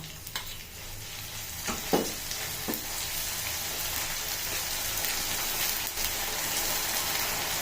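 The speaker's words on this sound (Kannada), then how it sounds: "ಈಗ ನೋಡಿ ಕೊಬ್ಬರಿ ಕುದಿತಾ ಇದೆ ಎಣ್ಣೆ ಕುದಿತಾ ಇದೆ" Coconut oil boiling in a pan with ground Indian gooseberries, fenugreek and curry leaves: continuous crackling sizzle with a few sharp pops and a stirring scrape near the start, steady throughout.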